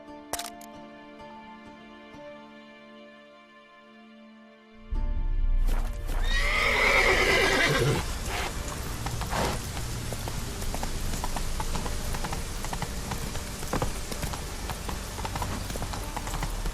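Roach, the horse in the Witcher 3 video game, gives a loud whinny, then trots with steady clip-clop hoofbeats. Quiet background music plays beneath.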